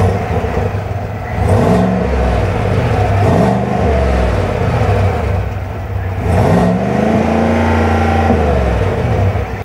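A Chevrolet Silverado 1500 ZR2 AEV Bison pickup truck's exhaust revs up several times, rising and falling in loud, close bursts over a steady idle rumble.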